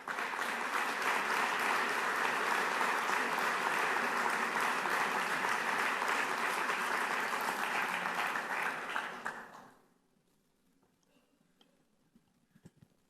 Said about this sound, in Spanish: Recibimos con un aplauso a don Pablo Hermoso de Mendoza, alcalde de Logroño.